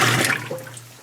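A high efficiency clothes washing machine sprays water onto the clothes during its rinse cycle, a close hissing rush that starts strong then tapers to a quieter trickle with a low motor hum underneath.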